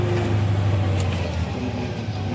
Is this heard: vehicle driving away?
yes